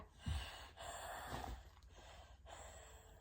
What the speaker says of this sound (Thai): นี่คืออาการหอบนะ